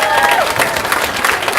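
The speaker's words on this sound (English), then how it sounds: "can we get a round of applause for the cupcake bakers?" Wedding guests give a round of applause for the cupcake bakers, a loud, dense wash of clapping from a crowd that fills the moment, with a few cheers and some murmured voices mixed in.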